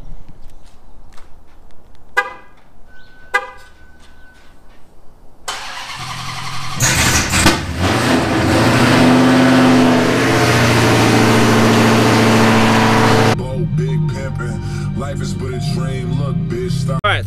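A Dodge Demon cold-starts on E85 fuel: a starter whir, then the engine catches with a loud, bellowing roar that holds a high idle for several seconds before settling into a lumpy, rumbling idle close by.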